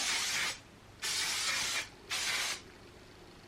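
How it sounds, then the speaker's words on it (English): Sleek Perfect Polish workable hairspray hisses from an aerosol can in three sustained bursts of about half a second to a second each, close and loud, with brief pauses between and no talking. "I am actually going to use some right now because I've not sprayed my hair yet."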